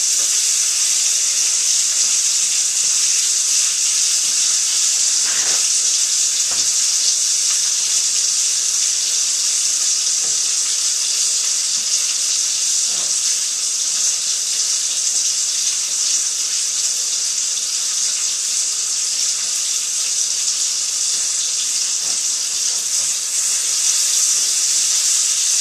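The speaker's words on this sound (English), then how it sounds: "You hear all that crackling in the back." Chicken Francese cutlets fry in a pan with lemon, giving a steady, dense crackle and hiss that holds for the whole stretch, with a few faint thumps underneath.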